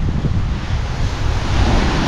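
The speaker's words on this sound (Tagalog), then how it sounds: "Ang lakas ng hampas ng alon mga kautol." Strong ocean waves crash and churn at Buyaran Beach, a loud continuous roar of surf mixed with heavy wind buffeting the microphone, with no pauses.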